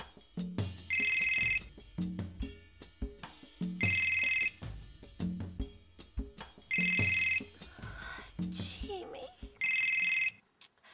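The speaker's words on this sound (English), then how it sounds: "get the phone" A telephone rings in repeated bursts at a steady pace, four rings in turn with people talking and calling out in the room in between.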